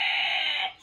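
A single short, tonal chicken call rings out nearby on a backyard poultry farm that keeps turkeys and other fowl, then quickly trails off.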